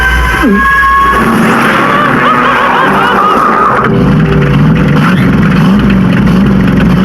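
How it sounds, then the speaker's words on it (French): A big 4x4 idles with its engine left running in the middle of a park, a loud, constant low rumble close by that fills the whole stretch without a break. "il garde son gros 4x4 au milieu du parc en laissant tourner le moteur"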